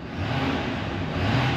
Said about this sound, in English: let's go ahead and hear this diesel V8 a little bit